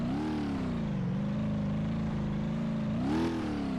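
A modded combustion engine in BeamNG.drive revs steadily with a rough, harsh buzzing drone, rising and falling in pitch and swelling briefly near the end, loud and close with no talk.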